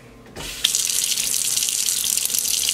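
Cold water runs from a kitchen sink faucet fed through an Epic Smart Shield under-sink filter. A click and a brief gurgle come first, then the flow jumps to a loud, steady hissing splash close by, with no talk.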